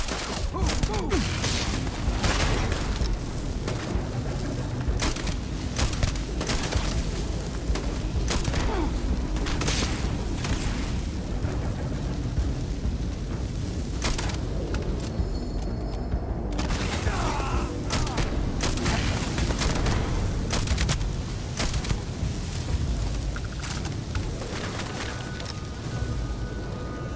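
Dense video-game combat in Starfield, with rapid gunfire bursts, heavy booming thuds and a grenade blast crowded together throughout, while voices call out briefly over the chaos.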